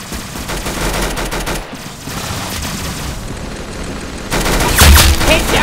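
Rapid gunfire in the Roblox game Arsenal, dense continuous shots with booming bursts, loud and close, growing heavier toward the end.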